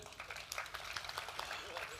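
Audience claps loudly at an award ceremony, a dense patter of hand claps with cheering voices mixed in, steady for the whole stretch.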